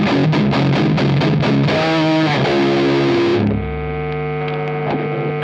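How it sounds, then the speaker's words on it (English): Heavily distorted electric guitar through really high-gain pedals, loud and continuous, chords ringing into a sustained buzzing drone with hiss and hum as it decays. "So let's create some noise with some pedals, really high gain."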